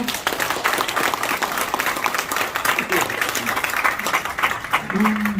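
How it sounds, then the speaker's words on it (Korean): An audience at a Korean fundraising evening claps steadily, a dense, even round of applause filling the hall throughout, with a voice talking faintly over it. "네, 다시 한번 큰 박수 부탁드립니다."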